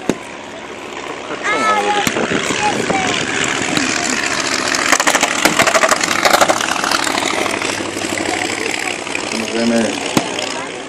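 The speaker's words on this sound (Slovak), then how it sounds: "Počujete originál motor Polikarpova." A vintage Polikarpov aircraft's original piston engine drones steadily throughout, loud and continuous with a rough rumbling texture, while voices talk over it.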